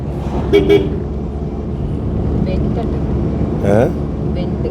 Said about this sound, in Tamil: இங்கே வந்து ஹார்ன் அடிக்கணுமாமா